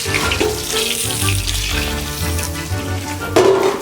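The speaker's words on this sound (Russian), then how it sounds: "Опускаем картошку обратно в масло." Potatoes dropped back into hot oil in a kazan give off a loud, steady sizzle and bubbling that runs throughout, swelling briefly near the end.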